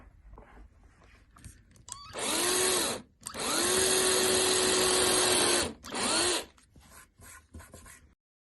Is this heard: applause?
no